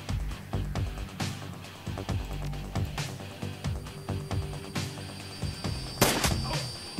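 Machine gun fire in the video game Shadowrun Returns: a long run of loud, evenly spaced booming shots, with one sharper, brighter burst near the end.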